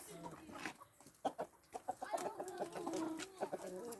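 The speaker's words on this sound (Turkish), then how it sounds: "Şimdi tavukları salacağız." Chickens being let out of their coop at a village farm, clucking in quick soft bursts at close range, with a few louder calls and some light background noise.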